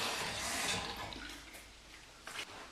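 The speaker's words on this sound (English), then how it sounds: "rinse off with cold water." Water rinsing cold water over a face after a Parker push-type shavette straight razor shave, a steady splashing hiss from a running tap that fades midway with a brief louder burst near the end.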